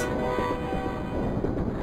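A train sound effect in a bank-robbery video game: a steady, close rumble of rolling rail cars with a faint horn-like tone, with no talk.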